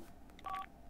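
Faint phone button tones from The Sims 4, a few short beeping dial tones in a quick cluster, soft and close against a quiet background.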